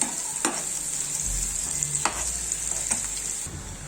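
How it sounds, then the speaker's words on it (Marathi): Onions sautéing in a hot pan, a steady bright sizzle throughout with occasional spoon scrapes and stirring knocks against the pan, close and without talk. "कांद्याला चांगला परतून घेऊ।"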